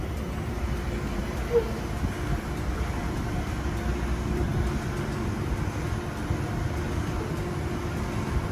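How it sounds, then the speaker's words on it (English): Steady low rumble and hum of the new tram set 2127 on the L1 Dulwich Hill Line, heard up close as a continuous broadband drone with a faint tonal whine and no clear individual events. "it's now time to board the tram"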